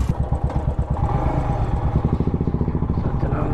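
A motorcycle engine rumbles at close range as the bike moves along an Indian road, its throbbing exhaust pulsing steadily and growing more rhythmic, with a voice briefly audible over it.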